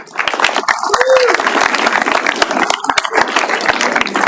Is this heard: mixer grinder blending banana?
no